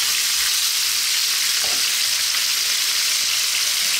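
Sliced small red onion frying with ginger in a pan for a Chinese pork and vegetable stir fry, giving a loud, steady close sizzle with a few faint stirring touches and no talk.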